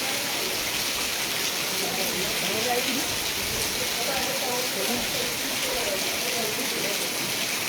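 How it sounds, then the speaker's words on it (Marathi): A steady monsoon downpour at Koyna Nagar, Maharashtra, hisses and patters on surfaces, constant and close, with a faint voice murmuring underneath. "मुसळधार पाऊस चालू असल्यासारखा असा हा पाऊस आहे"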